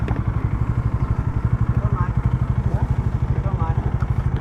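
A motorcycle engine idles close by in a fast, even putter as the bike is brought out of a garage, with faint voices in the background.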